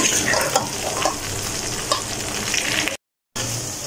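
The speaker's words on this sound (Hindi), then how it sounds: "इसको 3 से 4 मिनट तक हम लोग फ्राई करेंगे" Okra (bhindi) frying in hot oil over a lowered flame gives a steady, dense sizzle with faint stirring scrapes, close and continuous, broken by one brief gap of silence near the end.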